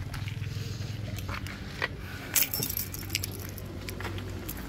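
Car keys for a Nissan Navara pickup jangle in short metallic bursts as they are slipped into a pocket, close and fairly loud over low background rumble.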